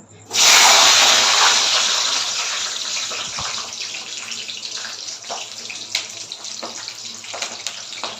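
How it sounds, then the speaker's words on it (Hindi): Green chillies drop into hot oil in a kadai. A loud sudden sizzle bursts in, then slowly settles into a steady hiss scattered with small pops and crackles. "चलो रे तल लेथन, एक के साथ डालू कढ़ी में।"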